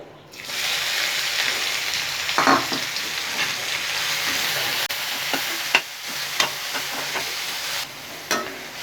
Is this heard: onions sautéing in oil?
yes